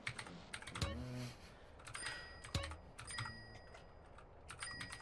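Fast clicking keystrokes on a computer keyboard enter a money cheat code for GTA San Andreas, in close, quiet, irregular bursts with a few heavier key thumps between them.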